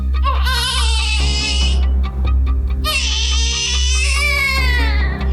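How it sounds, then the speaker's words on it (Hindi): A small child cries loudly in two long, wavering wails with a short sobbing gap between them, over a steady low hum. "रात को 10 बजे पड़ोसियों ने एक छोटे बच्चे की रोने की आवाज सुनी।"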